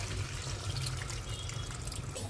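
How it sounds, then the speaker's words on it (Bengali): Water is poured steadily into a pan of taro (gati kochu) cooked down with tomato puree, a soft continuous rushing trickle at low volume with a faint low hum beneath, no voices. "এবার আমি জল ঢেলে দেব"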